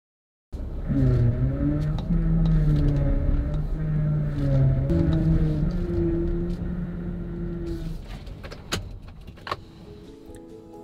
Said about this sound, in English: I don't think my car's supposed to sound like that.